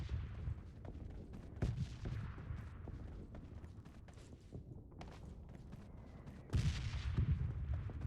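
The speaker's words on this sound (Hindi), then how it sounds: "अब भाई यहाँ पे फायरिंग शुरू हो गई।" Gunfire in a battle royale video game squad match: repeated sharp shots and bursts over a dense rumbling background, moderately loud and continuous.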